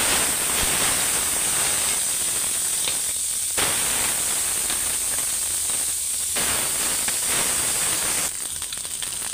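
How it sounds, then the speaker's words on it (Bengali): Shing catfish frying in hot oil in a pan, a loud steady sizzle and hiss that runs throughout, with slight surges and dips in intensity. "শিং মাছগুলি আমি ভাইজা নেব।"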